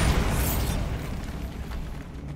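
A Bombarda blast spell in the video game Hogwarts Legacy bursts as a loud, dense explosion that rumbles and slowly fades over about two seconds, with no voices.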